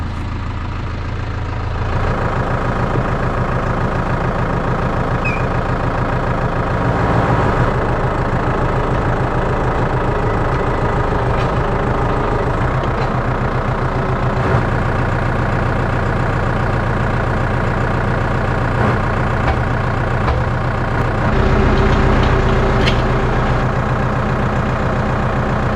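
A tractor engine idles close by, a loud, steady low rumble that holds unchanged throughout and rises slightly near the end, with no voices.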